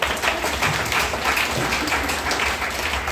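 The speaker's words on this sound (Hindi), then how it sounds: "एक तालियां से लीजिए।" An audience at a Hindi-language health talk gives a round of applause, a steady wash of clapping heard fairly close and loud throughout, with no talk over it.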